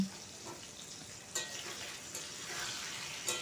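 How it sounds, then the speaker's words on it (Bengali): Potatoes fry in a pan, a faint, steady sizzle with occasional louder pops and stirring scrapes, close and otherwise quiet. "আলুগুলোকে আমি এখানে একদম ভেজে নেব"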